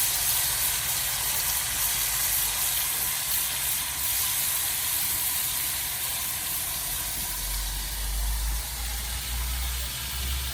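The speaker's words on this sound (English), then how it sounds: "You see how fast that fillet fish is cooking? Nice heat on this fireside." Fish fillet seasoned with lime juice and spices cooking over an open backyard fire, giving a steady, loud broadband hiss and sizzle throughout with a low rumble of flame underneath and no talking.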